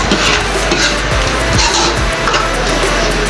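A spoon scrapes and stirs through a pan of calderetang corned beef sauce with tomato paste, a busy, close, continuous mix of scraping, light clinks and low sizzle.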